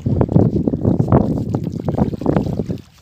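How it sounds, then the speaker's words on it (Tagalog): Strong wind buffets the microphone at an open fishpond while a small boat is paddled out for crab catching, giving a steady, loud, gusty rumble with faint water sounds underneath. "Ayun, malakas po yung hangin."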